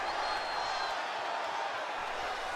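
Arena crowd at a wrestling show on Monday Night Raw, a steady dense roar of many voices holding at an even level throughout, with no single cheer standing out.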